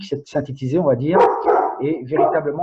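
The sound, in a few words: dog barking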